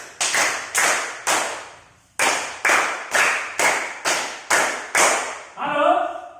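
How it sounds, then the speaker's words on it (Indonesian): Children clap in the 3-3-7 rhythmic pattern: sharp, loud claps in short measured groups with brief pauses between, ending as a voice starts speaking. "mari kita tepuk tangan dulu, tepuk 3-3-7"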